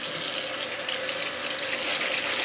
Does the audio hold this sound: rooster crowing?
no